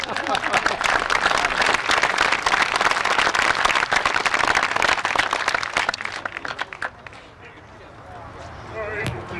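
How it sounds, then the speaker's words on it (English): Loud, dense crowd applause and clapping at a workers' mural dedication ceremony in Minnesota for several seconds, thinning out and fading into a few scattered claps and background noise. "Give God a big hand clap today."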